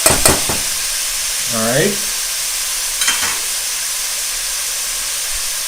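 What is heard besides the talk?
sausage and vegetables sizzling in a soup pot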